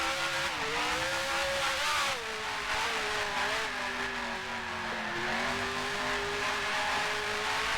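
Works F1 car engine in a racing sim at Zandvoort, a loud continuous high-pitched whine with revs rising and dropping through gear changes, alone with no talk.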